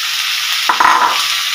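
Fried potato and cauliflower tipped into a hot pan of oil, with a loud steady sizzle broken by a brief clatter and stir partway through, close up and without talk.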